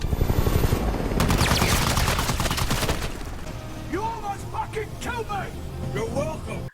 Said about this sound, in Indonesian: Mars ditembak oleh helikopter